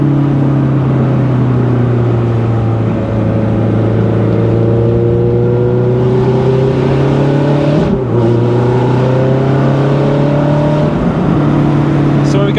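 A 2007 Ferrari F430 Spider with an engine tune and aftermarket exhaust pulls hard, a loud continuous engine drone climbing steadily through the gears with a brief dip at a shift, heard from inside the car.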